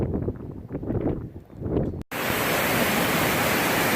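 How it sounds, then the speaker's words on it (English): Snowmelt creek water rushing along the Tuckerman Ravine Trail in the White Mountains, a steady, dense, hissing roar close to the microphone that cuts in abruptly after a stretch of gusty, rumbling wind-like noise. "we're not really sure exactly what creek this is, but we are nearing the end of the Tuckerman Ravine Trail"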